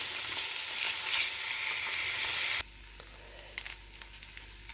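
Chicken fries in a pan with a steady, fairly quiet sizzle that drops away sharply partway through, leaving a softer hiss with a few light clicks.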